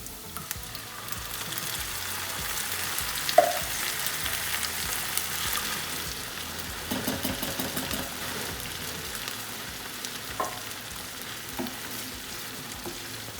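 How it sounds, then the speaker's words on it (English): Tomatoes sizzle and fry in a pan with garlic for a chicken pasta bake, a steady crackling hiss with occasional spoon clinks and stirring scrapes, close and continuous without talking. "Make sure you don't burn that garlic because it burns really easily. And then tip in your tomatoes."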